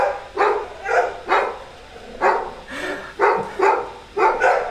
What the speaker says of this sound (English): My dogs have decided that it's time to sing.